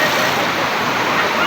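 Rushing floodwater during a typhoon, a loud, steady broadband roar of churning water with no break, close and continuous throughout.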